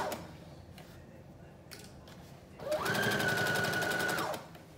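A sewing machine runs in one steady burst of stitching along the side seam of a Simplicity 8642 flutter top, starting after a quiet pause and ending abruptly, loud and close.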